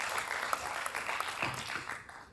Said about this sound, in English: Let's all give a round of applause to the entire team once again.